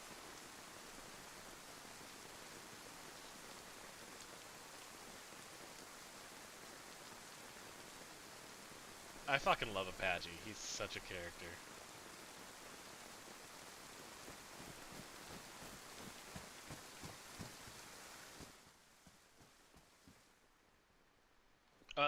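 Rain falls steadily in the DayZ video game as a constant soft hiss, broken midway by a brief burst of clattering footsteps and movement before fading out; someone speaks briefly over it.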